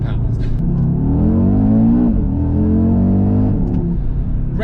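A 2020 Audi RS Q3 Sportback engine, revving out at 7,000 RPM, climbs loudly in pitch, drops briefly, then pulls up again, with a heavy low rumble underneath.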